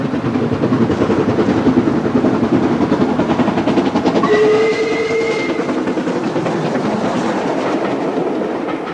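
A passenger train pulled by an LMS steam locomotive runs along a railway line, a loud rumbling roar with rhythmic clatter. A brief tonal whistle-like sound rises midway before the noise eases slightly.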